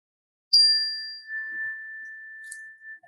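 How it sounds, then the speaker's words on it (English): A meditation bell rings once with a bright strike, then a long, pure tone that slowly fades over a few seconds in a quiet room. "And just listen to the sound of the bell."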